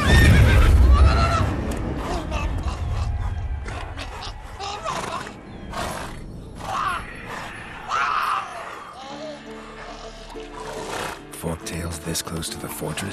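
Roach, Geralt's horse in The Witcher 3, gives a loud close whinny and snorts over galloping hooves and game ambience, with voices briefly heard.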